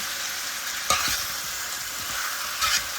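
Jamaican-style curry chicken crackles and fries in oil in a pot, an even close sizzle broken by two louder stirring scrapes and clanks as the pieces are turned.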